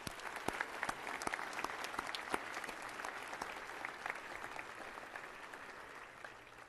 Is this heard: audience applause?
yes